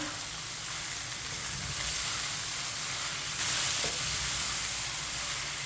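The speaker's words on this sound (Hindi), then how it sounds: "केचप डाल के मैंने मिक्स कर लिया।" Ketchup being mixed into chicken macaroni in a hot pan, giving a steady, even sizzle with soft stirring texture throughout and no voices.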